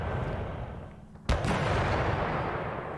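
Artillery fire in a WWII Tunisia wargame: a single sharp loud boom partway through, over a steady rumbling background of battle noise, with no talking.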